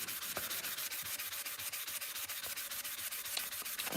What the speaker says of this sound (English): Get this all sanded down so it's all nice and flat.